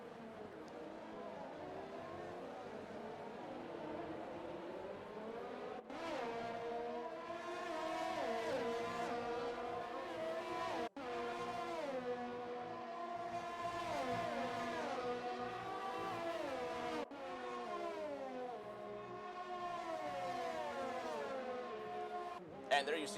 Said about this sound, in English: hearing those beautiful turbocharged V6 engines